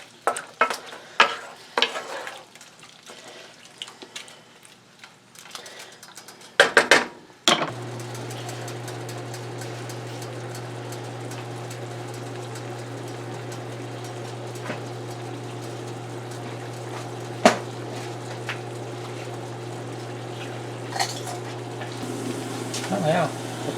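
Chicken skin and fat render in a pan into schmaltz. Scattered clinks and handling noises come first, then a steady, close sizzle with a low hum runs throughout, broken by an occasional sharp knock.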